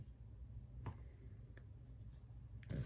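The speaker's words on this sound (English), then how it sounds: "take my cutting wheel, I'm going to cut the pouch right in half" A cutting wheel slices through a large pouch, a faint scraping rolling sound with a couple of sharper clicks, close and quiet with no speech.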